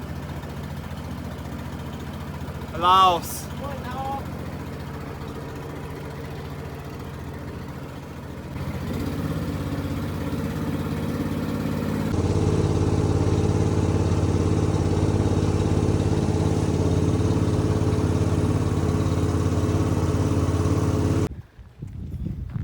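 A boat's motor drones steadily on the Mekong River in Laos on the way to Don Det island, growing louder and closer midway, then cutting off near the end; a voice briefly speaks early on.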